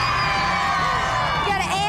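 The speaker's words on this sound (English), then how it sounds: "We got an amped crowd here." A studio audience at a Ripley's Believe It or Not stunt cheers and whoops in a loud, continuous burst, with voices shouting over the crowd.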